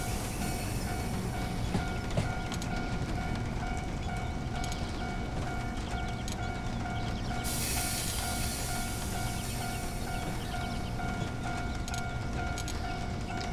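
A 103 Series EMU train runs in Train Simulator 2017 on the Sakurai to Gojo route in Japan, with a steady electric whine and rolling noise, a few faint clicks, and a burst of air hiss partway through.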